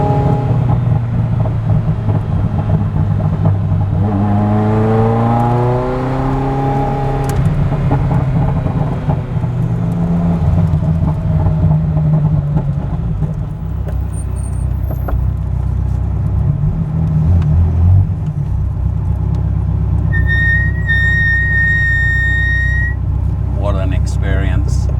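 Ferrari F40 engine revving on the move, a loud, steady roar whose pitch climbs and falls through the gears, with a few faint beeps near the end.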